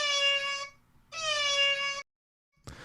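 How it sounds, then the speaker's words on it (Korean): A cat gives two long, clear, drawn-out meows separated by a short pause, fairly close and alone, followed by a brief click-like knock. "보통 고양이가 기분이 좋거나 만족하거나 이런 소리입니다."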